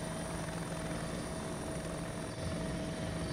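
A helicopter engine spools up in the ArmA video game, a steady loud drone with a high whine and rotor throb that keeps going without a break.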